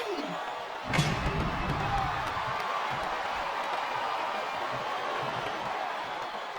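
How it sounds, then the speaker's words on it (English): Crowd noise from a WWE SmackDown vs. Raw 2007 wrestling match, a steady roar of cheering after a sharp slam-like hit, filling the arena at moderate loudness. "I think these superstars are getting some feedback from the crowd, JR."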